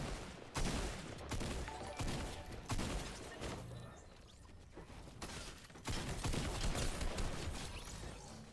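Tactical shotgun blasts in a Fortnite fight, several loud booming shots spaced irregularly alongside build and impact clatter, close and dense with game effects.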